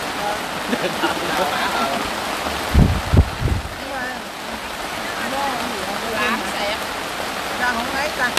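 Rain falls in a strawberry garden, a steady close patter on surfaces, with a few low thumps midway and people talking over it.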